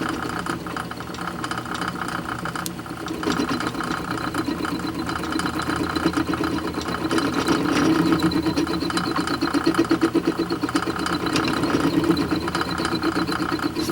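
A drill press converted to work as a milling machine cuts a workpiece clamped tight in a vise, giving a loud, steady motor drone with a rapid chattering rattle that grows rougher and louder midway through.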